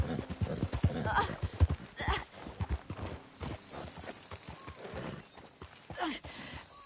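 Horse hooves clip-clop in an irregular walking rhythm with a brief whinny from a horse in the Western game Red Dead Redemption 2, close and fairly loud, with voices talking over parts of it.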